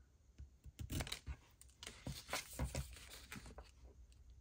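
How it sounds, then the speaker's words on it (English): Small craft scissors trimming paper, a series of close, quiet crisp snips and rustles in irregular rhythm, faint in a quiet room. "I'm just going to get my little scissors and trim this little part off here"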